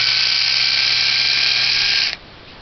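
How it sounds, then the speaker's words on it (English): A Philips S1520 rechargeable electric shaver buzzes with a steady, loud, close whine for about two seconds, then switches off abruptly, leaving faint room noise. "This is a S1520 Philips rechargeable shaver."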